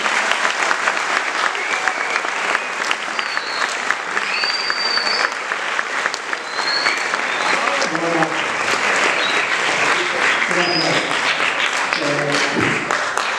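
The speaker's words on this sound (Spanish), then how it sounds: "démosle un fuerte aplauso y una bienvenida" Sustained, loud applause from a lecture audience in a university hall welcoming a speaker, a dense continuous clatter of clapping holding steady for over ten seconds with scattered voices.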